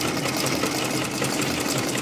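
Pedal-operated Butterfly domestic sewing machine running steadily, a continuous close whirring hum with fast mechanical ticking throughout, loud and alone.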